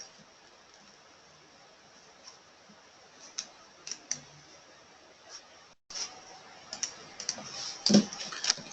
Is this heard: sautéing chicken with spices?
no